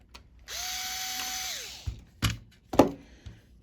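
A power driver whirs for about a second as it backs out screws on a GMKtec Nucbox K8 mini PC, followed by a few close clicks and knocks as parts are handled.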